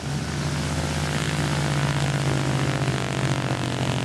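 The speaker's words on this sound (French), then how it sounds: "Mais le commandant Raoul veut repartir tout de suite avant la nuit, car décoller ici, c'est délicat." Propeller airplane engine running loud and steady at a small, tricky airstrip as the plane prepares to take off before nightfall, a continuous close drone with no talking.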